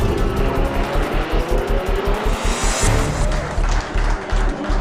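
Peugeot and Audi race cars battling through an overtaking move in an endurance race, with engines roaring loudly and continuously, pulsing as gears change, and a brief hiss of tyres midway through.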